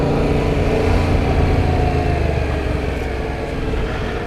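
A Yamaha MT-07 motorcycle engine runs in a dense, steady rumble with a slight lilt, loud and close throughout, with no voices over it.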